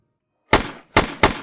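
Gunshots fired at a bullseye shooting target, three sharp loud bangs after a moment of silence, the first alone and the last two in quick succession, with no talk.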